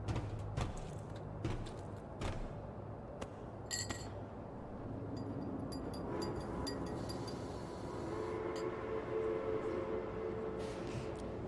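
In a video game, a train rumbles steadily along with a dense, low running roar, broken by scattered metallic clinks and rattles. It sounds fairly distant and continuous, and nobody speaks.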